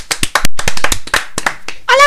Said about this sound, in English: Should we give Peter a round of applause?